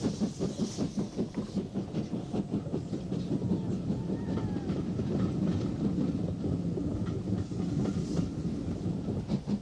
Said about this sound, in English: Sister engine number 48 passes through on a non-stop passenger train.